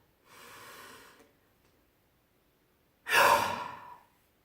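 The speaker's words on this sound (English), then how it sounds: "you're going to take a deep breath" A deep breath demonstrated, a soft drawn-in inhale followed after a pause by a louder, forceful exhale, close to the microphone with no talking.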